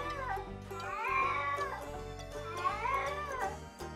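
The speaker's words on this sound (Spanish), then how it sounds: "Cuando tu gato emite aullidos es porque está experimentando preocupación." A cat yowls in two long, drawn-out rising and falling wails, each lasting over a second, fairly close and moderately loud against a quiet background.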